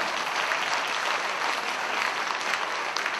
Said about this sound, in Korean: 박수 한 주십시오. 야, 박수!